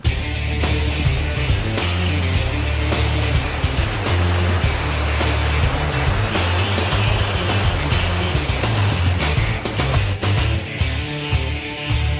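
Mountain river rushing beneath a footbridge on an Andorra ultra trail, a loud, steady wash of churning water filling the whole stretch without pause.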